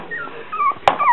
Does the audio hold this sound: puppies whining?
yes